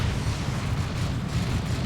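Autocannon fire from Terminators and explosions in a Dawn of War 2 multiplayer battle form a dense, continuous, loud roar of booms and blasts with no break.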